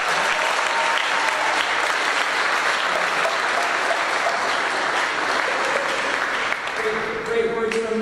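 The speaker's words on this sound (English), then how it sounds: "How about a final round of applause for CJ and Katie taking us through the program." An audience gives a final, sustained round of applause at a program event, loud and dense clapping filling the room for several seconds, with faint voices near the end.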